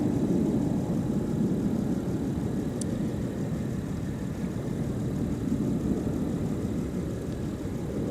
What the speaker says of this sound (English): The 350 has the best roaring sound I think I've ever heard in the aviation business out of all the modern jets